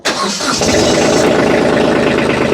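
A mini tractor engine cranks for a moment, then catches and settles into a loud, steady running rumble close by.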